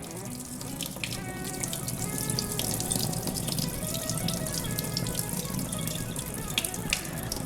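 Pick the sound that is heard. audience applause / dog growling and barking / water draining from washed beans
water draining from washed beans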